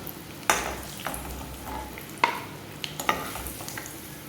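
Eggs frying in a pan for a garlic-chilli egg dish, a soft steady sizzle broken by a few sharp clinks and scrapes of a spatula stirring, close and moderately quiet with no talking.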